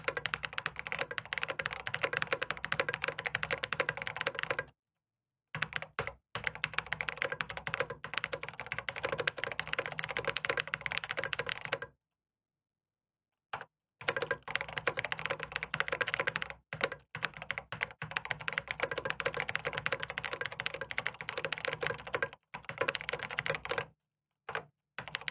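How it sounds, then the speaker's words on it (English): Fast, steady typing on a computer keyboard, loud and close, with dense continuous key clatter broken by a few short pauses and no voices. "this keyboard sounds so good"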